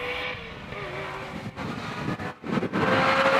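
A Ferrari racing up a hillclimb course, engine note holding steady then dipping briefly before surging louder, heard from trackside at moderate distance.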